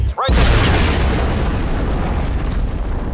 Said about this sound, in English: There are a lot of explosions.